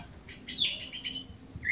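A small songbird, a suren, gives a short burst of bright, high chirps up close, ending with one clear tweet.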